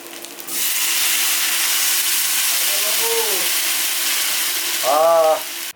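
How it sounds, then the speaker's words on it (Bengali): Water is poured into a pan of fried masala for egg curry gravy and sets off a sudden, steady hissing sizzle that lasts several seconds, broken by a couple of brief squeaky tones. "গ্রেভির জন্য আমার মশলা সমস্ত কষানো হয়ে গেছে এরপর আমি দিয়ে দেবো জল"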